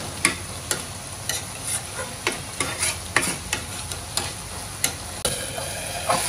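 A spoon repeatedly stirs and scrapes through eggplant, potato and tomato curry with small fish in a pan, giving close, irregular clacks over a soft, steady frying sizzle.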